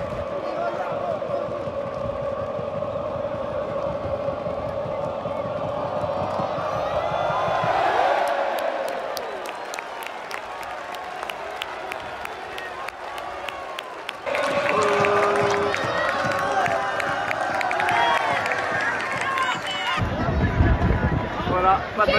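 Football supporters in a stadium in Venice shout and roar at players, with crowd noise rising and falling over about twenty seconds. Loud bursts of voices and rowdy babble come through, mixed with other stadium clatter.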